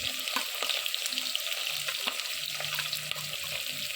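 Green chillies and onion frying in oil in a pan for coconut milk rice, a steady close sizzle with crackling pops and occasional stirring scrapes throughout.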